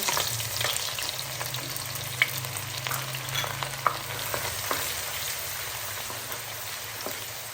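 Finely chopped onions frying with cumin in a pan, a continuous crackling sizzle close by, moderately loud with faint clicks of stirring scattered throughout, no voices.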